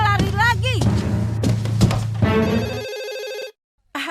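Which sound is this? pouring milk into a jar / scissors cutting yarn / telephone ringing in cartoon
telephone ringing in cartoon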